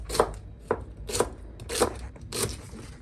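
A knife chops through fresh spinach on a cutting board in five loud, evenly spaced strokes about half a second apart, with no voices.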